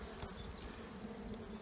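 Honey bees hum in a dense, steady drone close by inside an opened hive full of nurse bees and emerging brood, with faint handling noises mixed in.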